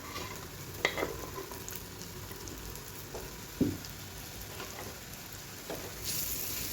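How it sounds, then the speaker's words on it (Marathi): Finely chopped jackfruit stir-fried in a pan, a soft continuous sizzle with a few sharp clinks and scrapes of the spatula, close and fairly quiet, no talking. "याला असं यामध्ये परतून घ्यायचं छान."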